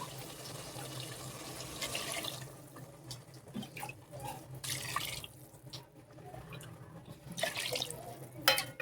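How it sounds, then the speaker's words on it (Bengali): Water is poured into a pan of Bengali fish curry with potatoes, a close, running splash and trickle that swells and eases unevenly and ends with a few louder splashes, with no voices. "এখানে জল দিয়ে নিচ্ছি, এই ঝোলটা একটু ফুটতে থাকবে"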